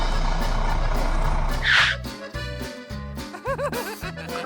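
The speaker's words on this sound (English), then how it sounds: "Mr. Bull's brother arrives with his tow truck." A cartoon tow truck pulls up on a stormy night with a throbbing engine and a hiss of air brakes, followed by a series of evenly spaced electronic reversing beeps, loud and close.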